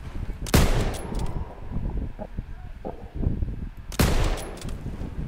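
Two sharp, loud gunshots ring out in the Call of Duty: WW2 campaign, spaced a few seconds apart, with faint wind, rustling and low chatter in between.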